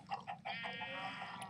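Chickens clucking in the Minecraft video game: a quick run of short clucks and then a drawn-out cackle, faint and low in level, with no voices over it.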